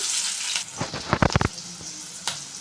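Green chillies dropped into hot oil for a vankaya (brinjal) fry, giving a close, crackling sizzle that swells into a cluster of loud spits and pops before settling back to a steady hiss.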